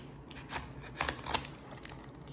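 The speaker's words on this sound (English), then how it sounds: "I have my razor here, my razor blade here. We'll just be cutting through the..." A razor blade slices through the packaging of a Cardfight!! Vanguard Overdress D-SD05 start deck, giving a few short, close scraping cuts in quick succession with faint rustle between them.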